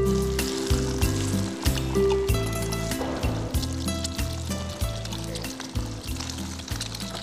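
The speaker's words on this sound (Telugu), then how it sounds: "ఇప్పుడు ఎగ్ వేసుకోవాలండి ఎగ్స్" Eggs frying in hot spiced oil for an egg masala pickle, with a continuous sizzle under a heavy, rhythmic low music bed, plus a burst of bubbling spatter midway.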